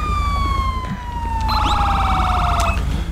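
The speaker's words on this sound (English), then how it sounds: "let's go shut my sirens off really quick" Police car siren in the GTA 5 video game wailing loud and close, a steady sweeping tone that shifts into a faster yelp pattern partway through, with no talking over it.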